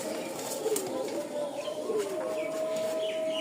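Copper-coloured male pigeons at a pigeon sale give soft, low coos against a steady background hum, with a few faint chirps mixed in.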